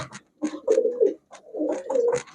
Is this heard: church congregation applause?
no